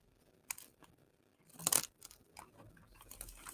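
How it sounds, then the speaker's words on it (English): Quiet snipping and crunching of scissors cutting through material, with one louder cluster of snips amid scattered soft clicks, close by and without talking. "anything that hangs off, I'll get with my scissors and trim it"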